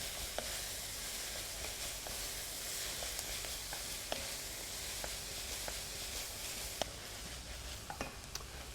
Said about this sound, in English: we're going to pop that straight into the pan and just sweat that off again